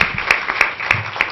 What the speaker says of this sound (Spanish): Les pido la recibamos con un fuerte aplauso